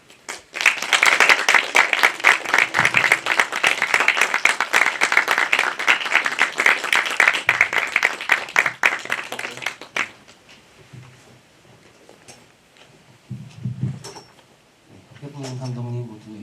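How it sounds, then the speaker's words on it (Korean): A Korean independent film festival forum audience bursts into loud, sustained clapping as the directors enter, lasting around ten seconds before fading into scattered shuffles and brief speech. "입장하실 때 여러분 박수로 환영해 주시면 감사하겠습니다."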